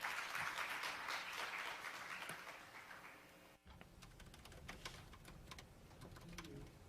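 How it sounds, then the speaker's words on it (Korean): Crowd applause at a space economy forum fills the first half, clapping steadily before tapering off, followed by a quieter room with scattered sounds and murmuring. "큰 박수 부탁드리겠습니다."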